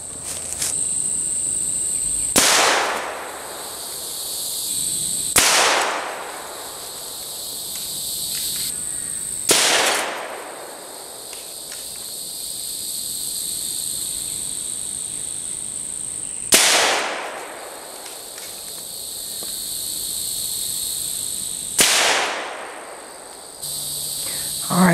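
Six rifle shots at cans outdoors, from a 17 HMR and a CZ 457 22 Magnum, sound as loud, sharp cracks spaced several seconds apart, each trailing off while insects chirp steadily in the background.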